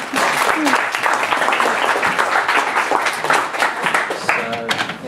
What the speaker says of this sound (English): Round of applause for our actor.